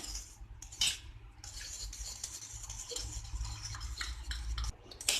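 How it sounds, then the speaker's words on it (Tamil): Spices are mixed into yogurt with a fork or whisk in a bowl, a close, quiet, continuous wet scraping and stirring with a few faint clinks of metal on the bowl, no talking. "இந்த மாதிரி ஒரு ஃபோர்க் இல்லைனா விஸ்க் வச்சு நல்லா மிக்ஸ் பண்ணி வச்சுருங்க."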